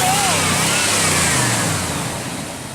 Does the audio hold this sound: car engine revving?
yes